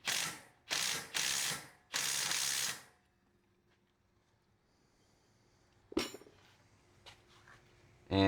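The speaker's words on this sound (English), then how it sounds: "Had to get a little bit of a shorter socket here," Ratchet wrench with a short socket tightening a coilover bolt on a Chevrolet Sonic, three or four loud close clicking bursts up front, then quiet with a few metallic clinks and knocks.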